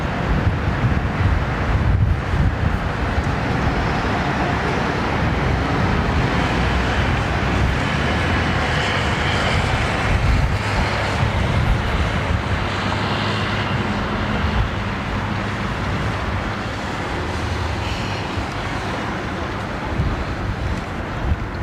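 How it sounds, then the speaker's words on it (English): An ANA Boeing 787 Dreamliner at Heathrow Airport gives a steady, broad roar that holds at high level throughout, mixed with wind buffeting on the microphone. "ANA Dreamliner, wow."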